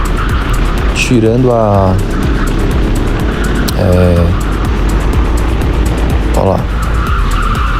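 Racing go-karts in a novice 80 kg class championship at the Granja Viana track, engines rising and falling in pitch as karts pass close by, with continuous motor noise throughout and a person speaking briefly.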